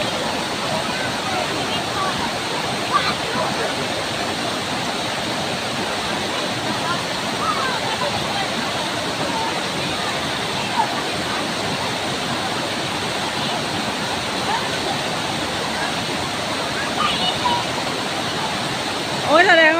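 A jungle waterfall roars continuously and loudly while a dog walks across the shallow water. Steady broadband rushing fills the whole stretch with only faint scattered splashes above it.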